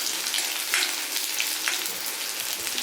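Mustard seeds and curry leaves sizzling in hot oil for a Kerala-style fish curry, a loud, steady crackling hiss with scattered sharp pops throughout.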